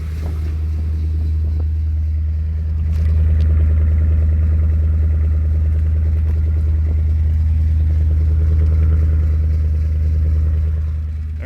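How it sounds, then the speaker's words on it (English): A steady, deep exhaust rumble from a Mercury Cougar engine idling after a cold start, loud and close, swelling slightly partway through before settling back to an even drone. "Hopefully you got a good sound of the exhaust on a cold start."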